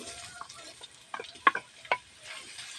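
Ham cooking in a pan for carbonara, with a faint background sizzle broken by a few sharp clicks and taps of a utensil against the pan, two of them louder than the rest.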